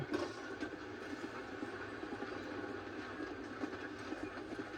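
Steady rumbling of a video game train rolling along the tracks, a continuous mechanical drone with faint rhythmic clatter, no voices.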